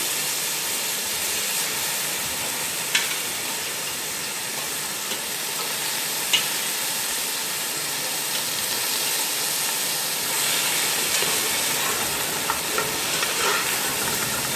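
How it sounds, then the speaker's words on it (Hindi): Chicken pieces fry in a pot with oil for Punjabi yakhni pulao, a steady close sizzle and hiss with occasional stirring clicks and a brief louder burst near the end, no talking. "इसमें से मैं चिकन को ऐड करके 1 से 2 मिनट के लिए फ्राई करूँगी"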